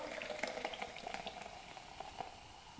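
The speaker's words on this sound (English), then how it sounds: "I'm just gonna pour that in my drinks bottle" Sugar-free Apple Tango soft drink poured into a drinks bottle, a continuous fizzing, bubbling gurgle with small crackling pops, close and fairly quiet, with no talking.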